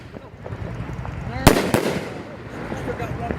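A 500 gram Devil's Fury fireworks cake fires outdoors, a loud crackling burst followed by a second sharp report and lingering crackle, with people talking nearby.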